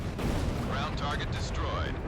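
Bombs detonating on a ground target during an aerial attack in the jet combat game Ace Combat 6, a dense, continuous low rumble of blasts with faint game voices and tones above it.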